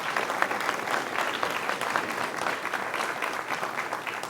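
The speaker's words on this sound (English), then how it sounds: "Let's give her a big round of applause." Steady, lively applause from a seated audience at a book signing event, many hands clapping evenly at close-to-moderate distance for several seconds without any speech.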